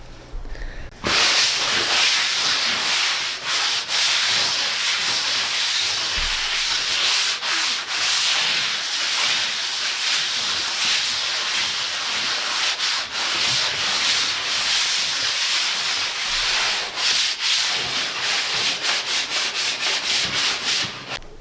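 Plaster fireplace surface sanded smooth by hand, a steady loud scratchy rubbing hiss with brief pauses between strokes, heard alone without talk.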